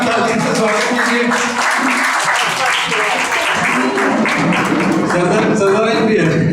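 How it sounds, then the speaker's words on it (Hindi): Audience in a Hindi-language community program hall breaking into loud, sustained clapping to welcome a guest, a dense steady wash of applause with voices mixed in throughout. "जोरदार ताली से स्वागत कीजिए"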